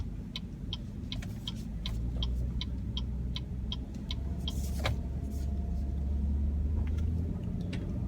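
A 2015 Cadillac SRX drives along the road with a steady low rumble of engine and tires. A regular ticking, likely a turn signal, repeats across most of the stretch, and nobody speaks.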